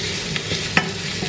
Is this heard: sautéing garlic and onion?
yes